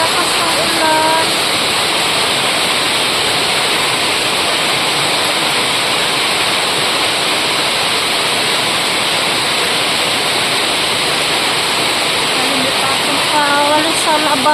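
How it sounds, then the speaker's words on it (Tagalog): Heavy rain pours down in a steady, dense broadband hiss that stays loud and unbroken throughout, with a few faint chirping tones near the start and the end. "ang lakas ng ulan"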